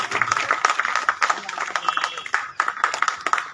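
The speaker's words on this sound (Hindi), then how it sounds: "जोरदार तालियां दीपक जी के लिए।" An audience at a district ceremony honoring ex-servicemen claps for an honoree, brisk scattered clapping that rises and dips in bursts, with some voices mixed in.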